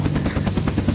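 Helicopter in the video game Unturned, a close, steady rhythmic rotor thumping with engine drone, alone and fairly loud throughout.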